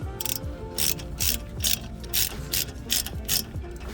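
A hand ratchet tightens the front brake caliper bolts on a 2015 Citroen C4 Picasso, giving rapid, close clicking in repeated bursts of a stroke or two each, with no talking.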